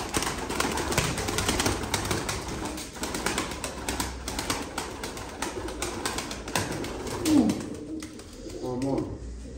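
Pigeons coo among a flock of racing or show birds kept in a loft, soft throaty calls repeating close by over a busy, noisy background with some rustling.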